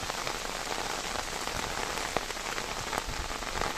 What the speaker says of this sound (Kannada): ಒಳ್ಳೆ ಮಳೆ ಬರ್ತಾ ಇದೆ ಬೆಳಗಿಂದಲೇ